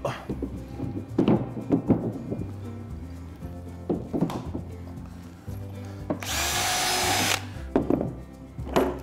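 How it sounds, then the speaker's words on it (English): A power drill whirs for about a second, drilling pilot holes into wood for a shed floor, close by, between scattered knocks, bumps and handling noises. "Pilot drill them, that'll stop them"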